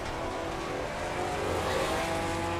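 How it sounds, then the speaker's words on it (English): In Assetto Corsa Competizione, a GT4 race car's tires screech under locked wheels, a sustained squeal layered over steady engine drone. "Oh, you can hear him screeching."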